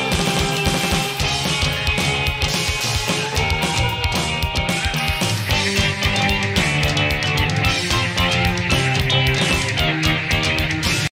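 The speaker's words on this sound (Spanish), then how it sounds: "Acá la guitarra le están poniendo flanger, ¿no? Mezclado con la distorsión" An electric guitar with flanger and distortion plays in a dense rock song, its sweeping, swirling, gritty tone loud and continuous over a full band mix throughout.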